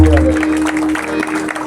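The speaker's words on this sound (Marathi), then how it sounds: "एकदा जोरदार टाळ्या आमच्या मागच्या" An audience at a devotional bhajan performance breaks into loud, dense applause that fills the space, with a sustained low instrumental drone running beneath it throughout.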